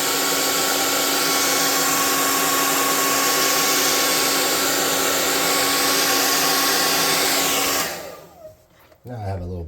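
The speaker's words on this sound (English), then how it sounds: "Now I'm going to get a hot air gun and dry that" A hot air gun blows steadily and loudly for about eight seconds, drying paint on a small model billboard for a tabletop roleplaying game scene, then cuts off, leaving brief quiet handling noises.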